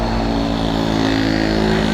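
A motorcycle engine drones loud and close for a couple of seconds, a steady, thick hum with a slight pulsing, recorded on a nature ride near Bitukang Manok.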